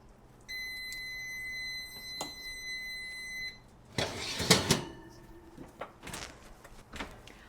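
A kitchen electronic timer beeps in a steady high-pitched tone for about three seconds, then stops, followed by clattering and rustling of cookware nearby.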